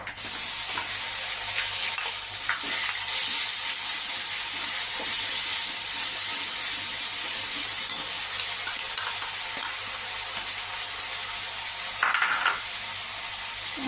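Masala being stirred into a rohu fish curry in a pan, a constant loud sizzle and hiss with occasional scraping strokes throughout, close up and without speech.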